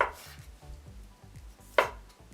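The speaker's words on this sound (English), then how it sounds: "You want to slice them on the bias. Cut them diagonally." Vegan sausages are sliced diagonally with a knife on a cutting board, a quick regular series of soft thuds with a couple of sharper clacks, close and without talk.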